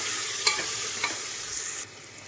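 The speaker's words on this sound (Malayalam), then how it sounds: "ഇപ്പോൾ നമ്മൾ തക്കാളിയൊക്കെ നല്ലപോലെ വഴണ്ടി വന്നിട്ടുണ്ട് കേട്ടോ" Tomatoes and spices sauté for a beef curry in a frying pan, giving a steady close sizzle broken by a couple of quick stirring scrapes before the sizzle drops off near the end.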